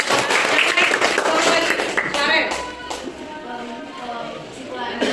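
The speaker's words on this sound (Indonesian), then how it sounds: "Kasih tepuk tangan." A classroom audience gives a short round of applause after a student's presentation, dense clapping at first that thins out as a voice begins speaking over it.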